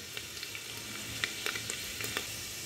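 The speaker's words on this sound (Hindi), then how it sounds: "आप देख सकते हैं लहसुन अभी ये ब्राउन होगा थोड़ा सा" Garlic browning in hot oil in a pan, a quiet steady sizzle heard up close with scattered light pops and crackles and no talking.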